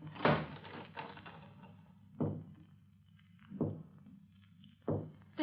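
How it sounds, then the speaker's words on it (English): A door in a 1937 radio drama shuts or knocks several times, four distinct wooden thumps spaced a second or more apart over a quiet low hum, with no voices. "Close the door."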